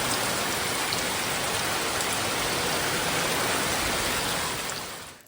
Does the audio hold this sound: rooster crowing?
no